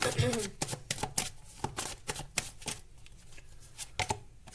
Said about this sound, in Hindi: चलो मैं और कुछ कार्ड्स निकाल लेती हूँ